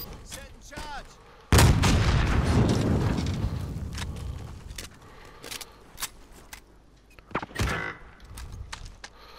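Video game gunfire in a battle-royale match: a sudden loud burst of shots with a long rumbling echo, followed by scattered single cracks and another sharp pair of shots later, with game sounds and faint voices mixed in.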